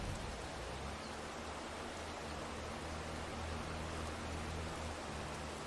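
Steady rainfall in the farming game Farming Simulator 22, a soft, even hiss of drops on surfaces with a low rumble beneath, constant and fairly quiet throughout.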